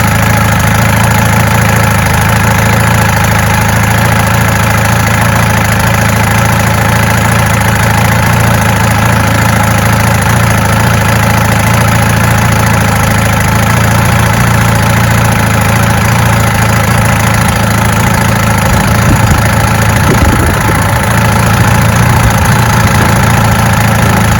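A loud, steady 1965 Evinrude 75 hp outboard boat engine idles continuously with a low, even rumble and slight roughness, no voices, holding constant throughout.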